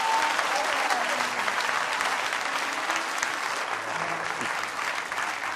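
Church congregation applauding loudly and steadily throughout, a dense continuous clapping that fades only slightly toward the end, with no clear speech over it.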